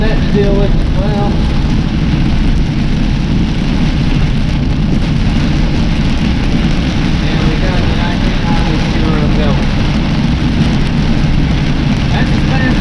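Heavy storm rain pounds a truck driving down the road, a dense, constant roar of water on the cab with low road rumble beneath, loud and unbroken throughout as someone talks over it.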